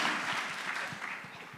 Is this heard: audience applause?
yes